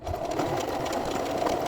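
A sewing machine chain-pieces patchwork blanket fabric, a rapid, steady mechanical whirring and needle chatter heard close up for a couple of seconds, with no voices.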